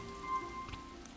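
Soft, steady rain patter in the video game Lonesome Village, faint and continuous beneath a thin sustained musical tone.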